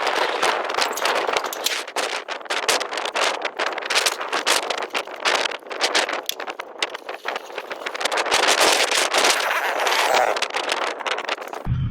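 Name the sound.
strong desert wind blowing 20-30 mph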